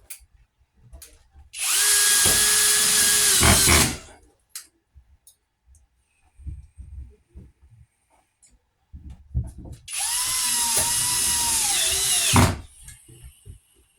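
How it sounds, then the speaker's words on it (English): A power drill drives screws into a wall to mount a hard-wired smoke detector, two loud whirring bursts of about two seconds each with quiet handling and clicks between them. "And we'll screw this onto the wall."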